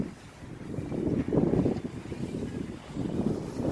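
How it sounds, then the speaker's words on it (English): Gusty wind blowing outdoors during a small drone flight, buffeting the microphone in low rolling surges that rise and fall across the stretch. "this wind is really blowing"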